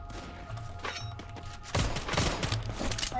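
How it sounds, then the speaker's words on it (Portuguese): Gunfire strikes the player in a shooter video game, a burst of sharp thuds and impacts that suddenly grows loud and dense partway through and stays close. "Eita, tô tomando tiro"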